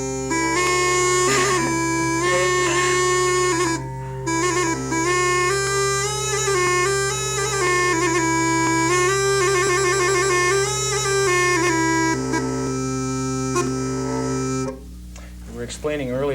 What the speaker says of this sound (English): This is called an argul, and it's from, this particular version is from Egypt.